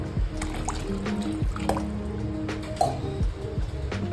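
A glass of water pours into a simmering shev bhaji curry base on a slow gas flame, making a close, continuous liquid splash and trickle with wet squishy bubbling underneath.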